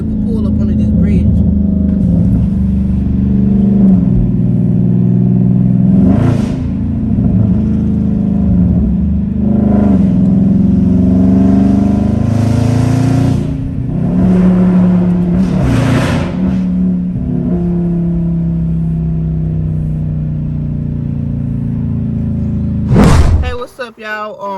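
A Dodge car rumbles deeply as it pulls up under a bridge, rising and falling in several throaty revs with a booming echo, then a sharp final blip before the engine settles; someone talks over it.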